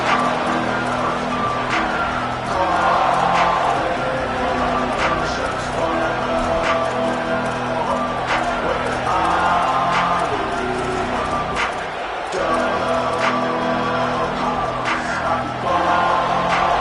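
A football stadium crowd keeps up a steady, dense roar and cheer throughout, with faint thumps and bangs mixed in and a commentator talking over it.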